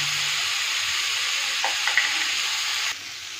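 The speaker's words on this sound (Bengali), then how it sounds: "এবার আলু কুমড়ো দুটোই ভাজবো।" Steady, loud sizzling of potato and pumpkin pieces frying in hot oil, continuous hiss with a few faint clicks, easing slightly near the end.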